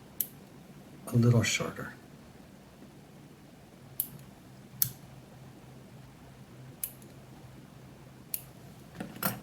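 Sharp scissor snips trimming the tail fibers on a Jumbo John fly in a tying vise: a dense cluster of cuts, then several crisp, isolated clicks spaced out, close and fairly quiet, with a voice talking between them.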